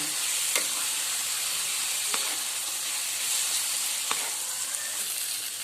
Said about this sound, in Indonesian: Kita oseng-oseng lagi biar bumbunya tercampur semua.